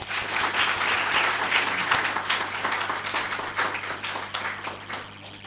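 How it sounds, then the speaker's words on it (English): An audience at a large UPSC seminar in Delhi claps in a sustained burst of applause, dense and steady before tapering slightly toward the end, heard without talk. "Please give them a all huge round of applause."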